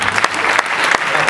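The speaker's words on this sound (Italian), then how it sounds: "continuate l'applauso per l'associazione Nebraska" Concert audience applause, a dense, steady wash of many hands clapping that fills the whole moment, loud and close.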